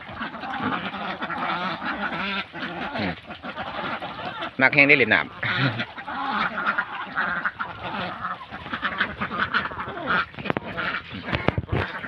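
Khaki Campbell ducks about two years old quack loudly and continuously in a noisy flock nearby, while someone talks over the din.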